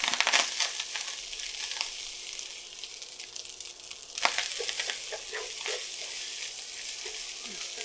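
Rice sizzles and crackles as it is stir-fried in oil for Spam fried rice, with scraping and stirring noises and a sharper clatter near the middle, close and fairly loud with no talking.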